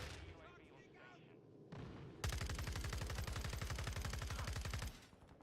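A P90 fires a long sustained automatic burst in the Modern Warfare 2 beta video game, rapid and steady, loud and close, after a quieter stretch with a faint voice and handling sounds.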